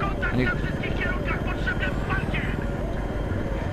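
Helicopter flying in the video game Battlefield 3, a steady rotor and engine drone running throughout, loud and continuous beneath players talking over it.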